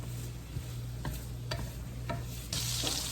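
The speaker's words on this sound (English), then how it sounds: "we just want to cook the sausage a little bit just so it can create its own grease" Sausage browning in a cast iron pan for a chicken, shrimp and sausage jambalaya: a steady close sizzle broken by a few scraping, clicking stirs, rising to a louder hissing burst near the end, with no speech.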